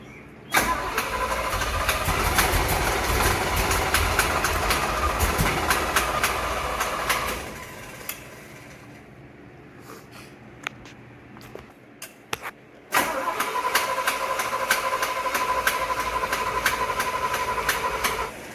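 A 1975 Chevrolet C10 truck engine cranks repeatedly, grinding and whirring, fading into a quieter stretch before cranking loudly again, without catching.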